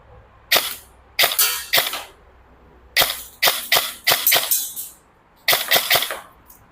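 A G&G ARP9 electric airsoft gun fires BBs in several short bursts of sharp, snappy shots. The bursts come close and loud, separated by brief pauses, with no talking.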